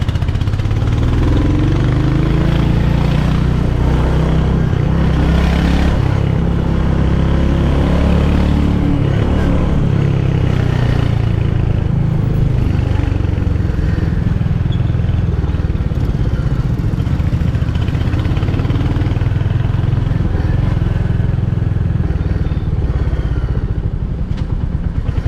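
Royal Enfield Hunter 350 single-cylinder motorcycle from 2023, ridden with a steady, loud engine rumble and clattering mechanical noise held throughout, with rising and falling revs and no talk.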